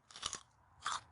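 Two crisp, crunchy bites into a raw Jerusalem artichoke (sunchoke) tuber, close and fairly quiet, separated by a short pause with soft chewing.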